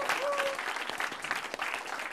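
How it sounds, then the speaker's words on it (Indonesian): Enthusiastic audience applause at a stand-up comedy show, dense and continuous, with a short whistle or shout rising above the clapping near the start. "Tepuk tangan dong."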